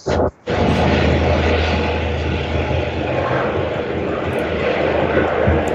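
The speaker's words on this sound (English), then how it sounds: "A helicopter is passing by, just wait for it." Helicopter passing overhead, a loud, steady broadband roar that briefly drops out near the start, then holds constant and close for several seconds.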